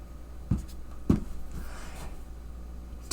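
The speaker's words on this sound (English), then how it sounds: "I'm going to write this off to the left." Marker or chalk strokes on a classroom board during a maths lesson, a few short scratchy taps and squeaks spaced about half a second apart over quiet room tone, no talking.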